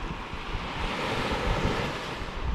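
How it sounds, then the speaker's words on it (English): Ocean surf rolling and washing onto a beach at Corumba Point in North Queensland, a steady broadband roar with wind buffeting the microphone, continuous and fairly loud with no talk. "Sitting at the beach, Corumba Point."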